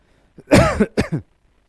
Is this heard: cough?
yes